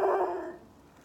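A dog barks once close by in a garden, a single loud bark that trails off into a fading whine, with no talking over it.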